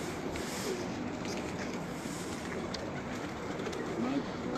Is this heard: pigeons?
yes